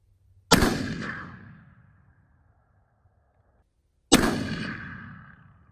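Two loud, sharp rifle shots from a TC Encore muzzleloader fired at a range, each a sudden crack followed by a long booming decay, spaced about three and a half seconds apart with no talk.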